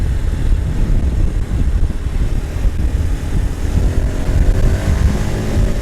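Kawasaki KLX230 dual-sport motorcycle ridden on roads in Bali, engine rumbling steadily as it accelerates, heard close with heavy wind buffeting over the microphone throughout.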